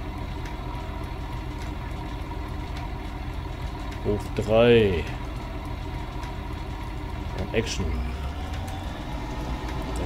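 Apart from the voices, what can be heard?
tractor engine idling in Farming Simulator 19 video game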